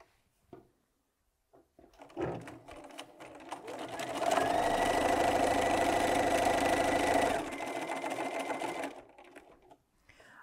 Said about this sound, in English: just going to go over to the sewing machine and I'm going to join this block of 4 together